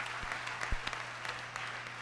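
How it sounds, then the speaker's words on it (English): Applause from a crowd at a mayor's state of the city address, fairly faint and distant, with a few sharper individual claps and thumps standing out over a low steady hum. "yeah, you can clap for that too"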